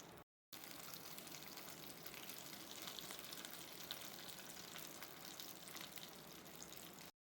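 Brinjal (eggplant) slices fry in a pan with a steady, quiet sizzle and crackle that holds evenly for several seconds after a brief gap of silence.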